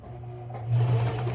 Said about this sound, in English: So let's go to the sewing machine. I'm going to start to sew